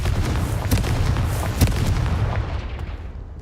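A Confringo blasting spell explodes in the video game Hogwarts Legacy, loud booming bursts with sharp cracks, one heavy blast near the start and another mid-way, followed by fading rumble.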